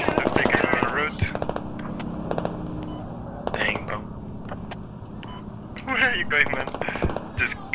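Scattered gunshots and short automatic bursts crack through a squad-based shooter match while players talk over them throughout.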